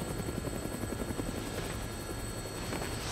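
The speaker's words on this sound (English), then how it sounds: "Looks like taking a helicopter was the way to go." Helicopter in Dead Rising Deluxe Remaster on Xbox Series X, a steady, loud rotor thrum and whine heard from inside the cabin throughout, alone without speech.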